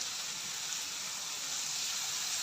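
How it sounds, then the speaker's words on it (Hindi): Water poured into a hot pan of frying egg curry masala, giving a steady, close hiss and sizzle of steam throughout, with no speech. "थोड़ा सा मैंने इसके अंदर पानी डाल दिया।"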